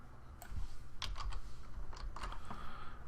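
A computer keyboard being typed on at a desk: a handful of quick clicking keystrokes in short irregular bursts, close and clear with no talking.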